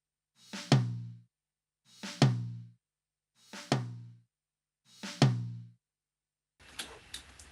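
A rack tom in a drum mix, boosted around 8 dB at 200 Hz, is struck four times at an even pace, each hit a full, boomy thump that decays cleanly, followed by a short burst of noisier sound.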